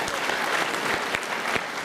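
An audience at a Toronto film festival matinee screening claps steadily, a dense, close wash of applause that runs the whole short stretch with no pause.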